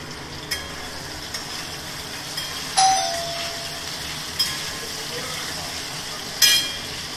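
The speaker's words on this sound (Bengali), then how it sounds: "আলুটা ভাজা ভাজা হয়ে গেছে" Potatoes frying in a pan with a soft, steady sizzle, punctuated by several sharp clinks and scrapes of stirring, close and moderately quiet.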